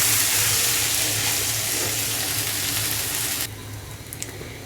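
Rice and lentils frying for khichuri make a loud, dense, continuous sizzle close by, which drops abruptly to a quieter crackle near the end with a few faint ticks.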